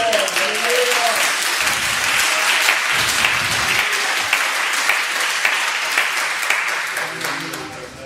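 A large church congregation applauding loudly and continuously, dense clapping that fades slightly toward the end.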